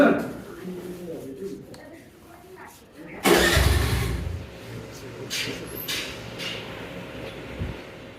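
A small Honda Navi motorbike engine starts abruptly and settles into a steady mid-pitched idle close by, following a stretch of quieter background noise.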